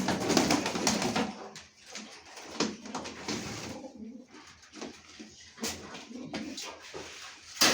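Racing pigeons coo close by in low, repeated throaty calls, with some rustling and shuffling around them.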